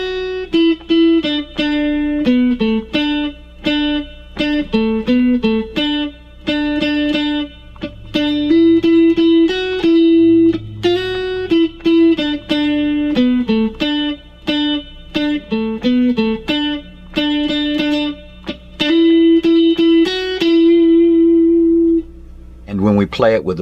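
Electric guitar plays through an effects unit with a clean-to-driven tone, a steady bouncing single-note riff repeated loudly and alone.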